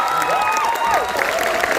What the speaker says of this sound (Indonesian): Kurang meriah, tepuk tangannya lagi dong.